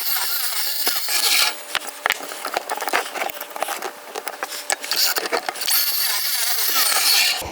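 Reclaimed wood pieces being cut for an outdoor bench, a steady power-saw whine with brief dips between cuts and scattered clattering of pieces, fairly close and loud with no talking.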